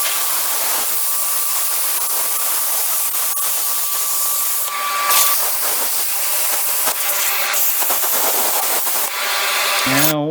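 Cutting tool slicing a steel patch panel for a bucket along a straight edge, a loud continuous harsh hiss and grind that runs nearly unbroken and then stops abruptly near the end, with no voices.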